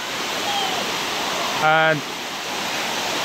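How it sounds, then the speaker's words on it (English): A roadside waterfall in northern Thailand pours in a loud, steady broadband rush, with a brief spoken word cutting in midway. "We just found this waterfall right next to the road and it's so beautiful."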